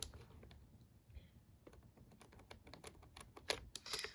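Laptop keys tapping quietly at close range, with sparse clicks first and then a faster, denser run of keystrokes that grows slightly louder toward the end.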